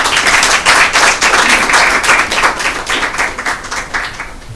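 An audience claps loudly and close by for the school teams at a Christmas Bible quiz, dense rhythmic applause that stays strong and then gradually thins and fades toward the end.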